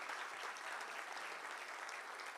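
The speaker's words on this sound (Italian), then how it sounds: "Io chiedo un grande applauso per questi nostri amici" Audience at the 64th Premio Ozieri ceremony for Sardinian literature clapping in a steady, dense wash that holds evenly throughout, fairly faint and distant, with no voices over it.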